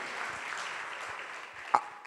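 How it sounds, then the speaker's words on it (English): Applause from a summit audience in a plenary session hall, a steady, fairly faint wash of clapping throughout with one sharp nearby clap near the end. "can I get another applause?"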